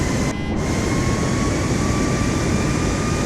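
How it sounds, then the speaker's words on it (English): An aircraft engine roars at full throttle in Microsoft Flight Simulator 2024, a loud, steady broadband rumble with a faint whine and a brief dip near the start. "let's go full throttle here, and we'll release the parking brake, of course"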